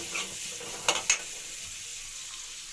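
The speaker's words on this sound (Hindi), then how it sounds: "प्याज डालते हैं। और प्याज को अब अच्छी तरह से भूजते हैं।" Onions frying in a pan with cumin, a steady soft sizzle broken by a couple of sharp clinks of a utensil against the pan near the middle.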